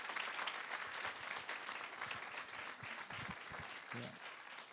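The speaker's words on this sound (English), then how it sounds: "So can we give our students another round of applause?" Applause during a school board meeting, a soft, fairly distant wash of clapping from the audience that continues throughout, with a few low voices underneath.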